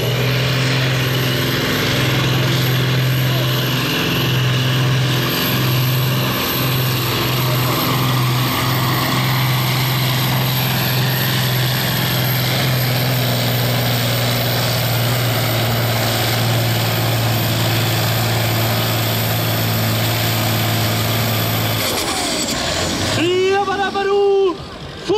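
A Kirovets K701 pulling tractor with a 1000-horsepower 22.4-litre V12 roars loud and steady at a night tractor pulling event, a deep sustained engine drone that cuts off abruptly near the end, with an announcer talking over it.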